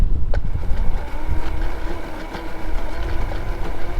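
A homemade electric snow vehicle's motor spins up at first throttle, a steady low whir and hum close by with faint creaking, holding even for several seconds without the vehicle moving.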